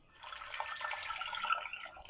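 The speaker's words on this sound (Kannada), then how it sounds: "ನೀರು ಹಾಕ್ಕೊಂಡು" Water poured onto lentils in a pressure cooker before boiling them for bonda, a soft brief splashing pour at moderate distance, no talking.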